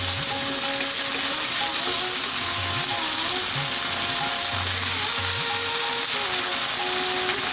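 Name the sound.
garlic ginger paste frying and sizzling in a pan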